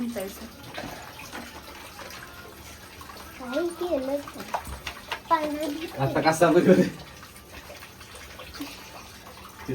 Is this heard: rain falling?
no